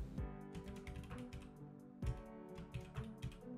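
Someone typing on a computer keyboard while entering a line of C# code in Unity: quick bursts of soft, close keystroke clicks with short pauses between groups.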